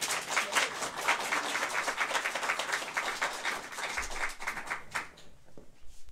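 An audience at a literary contest award ceremony applauds with dense, sustained clapping from a crowd, close and steady, then thinning and fading out near the end.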